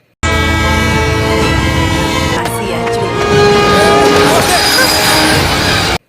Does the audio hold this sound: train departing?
yes